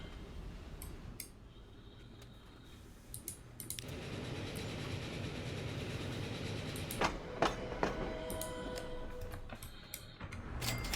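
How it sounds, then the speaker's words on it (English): A half-full passenger train pulls into a station in Transport Fever 2, a continuous rumbling roll with scattered clicks and ticks and a few brief tonal squeals, moderately quiet throughout. "Half full passenger train coming into the station."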